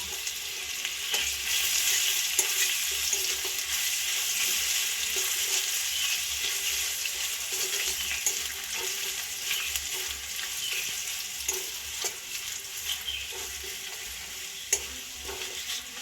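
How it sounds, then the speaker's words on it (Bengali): Grated ginger sizzles and fries steadily in hot tempering oil with dried red chillies for a Bengali bitter dal, a continuous close crackle with occasional stirring clicks and no talk. "ভালো করে ভাজা ভাজা করে নেবো আগে"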